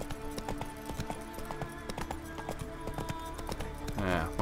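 Rhythmic horse hooves clip-clop steadily through The Witcher 3 as a horse is urged up a slope among trees, with game music beneath and a brief neigh-like swell near the end.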